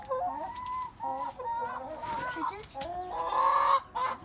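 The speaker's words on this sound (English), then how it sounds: "And Church's chicken." Chickens in an urban backyard coop in Houston cluck and murmur in short, varied bursts, fairly close, with a busier run of calls toward the end.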